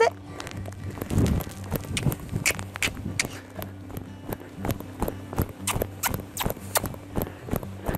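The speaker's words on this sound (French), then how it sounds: "je lève derrière, mon cheval part au trot" A horse trotting on a lungeing track during groundwork, with a quick, steady run of hoof beats at close-to-mid distance over a low background hum.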